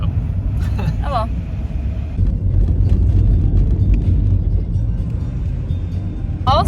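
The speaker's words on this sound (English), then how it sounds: "we're driving back into town" Steady low road rumble of a car driving on a snowy road heading back into town, continuous and close throughout, with brief bursts of a voice at the start and end.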